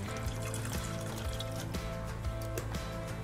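A big splash of apple cider vinegar pours into homemade peach habanero BBQ sauce, a short trickling liquid sound over a steady background hum.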